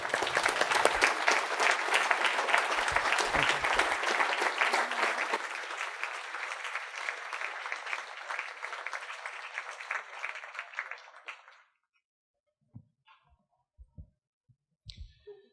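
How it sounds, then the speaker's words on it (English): Sustained, dense audience applause at a symposium in honor of an economist, loud and steady for about eleven seconds before stopping abruptly, followed by a few faint scattered claps and knocks. "for this important insight, we applaud Martin Weitzman"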